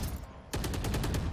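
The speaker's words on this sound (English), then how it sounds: "What a headshot from Ye" A rapid burst of gunfire in the competitive video game Valorant during a professional match, several quick crisp shots in succession right after a brief lull, heard under a busy game mix.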